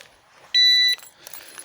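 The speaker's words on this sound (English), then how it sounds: "Oh, there goes my alarm." A single high, steady electronic alarm beep rings for about half a second, sharp and close, between quiet rustling.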